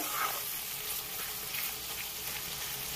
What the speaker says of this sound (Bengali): আমার পেঁয়াজগুলো বেশ ভালো করে ভাজা হয়ে গেছে